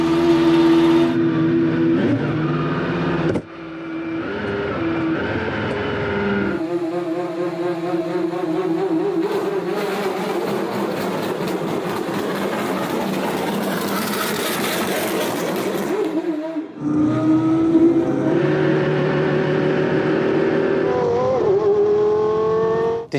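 A Mercedes-AMG One hypercar leaves a pit lane, its engine loud and close, revs surging and dropping repeatedly as the automatic clutch makes it hop, with a brief cut-off before it pulls away again.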